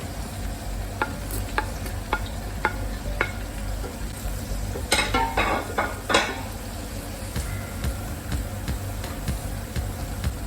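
Chopped onions hit hot palm and vegetable oil, starting with a few sharp utensil taps, then a loud burst of crackling sizzle that eases into a steady frying hiss, with no talking.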